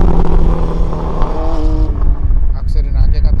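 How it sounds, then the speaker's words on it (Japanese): Inline-four motorcycles ride past on a bridge near a dam in Saga, Japan. Their engine note is a steady, fairly loud drone that swells and shifts as another bike comes up from behind, with someone talking over it. "多分これもインライン4の音ですよね。"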